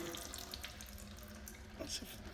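Power steering fluid draining by gravity from a disconnected line on a Ferrari 360, a continuous close trickling splash like a small running tap, steady and moderate in level.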